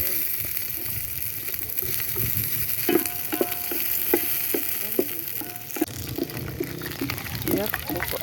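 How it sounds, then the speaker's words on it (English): Onions frying in oil in a sufuria during traditional African village cooking, a steady crackling sizzle with occasional stirring scrapes and clinks, close and moderately loud, with talk and outdoor voices over it. "We have to add oil, add onions."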